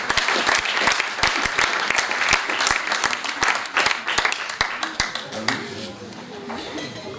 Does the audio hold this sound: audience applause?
yes